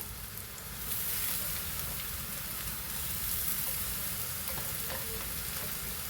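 Browned onions with added masala fry in a pan and give a loud, continuous close sizzle with steady scraping stirs that swells after the first second and holds without talking.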